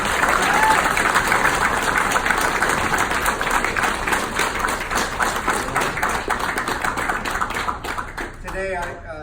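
A reunion audience in San Antonio applauds a sergeant major with steady, dense clapping that fills the room. A voice begins speaking as the applause fades near the end.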